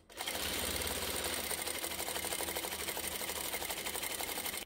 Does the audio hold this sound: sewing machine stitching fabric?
yes